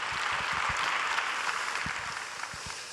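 Congregation applause during a Korean church Sunday worship service, a broad steady wash of clapping held at moderate level throughout, with a few low thumps scattered underneath and no voices rising above it.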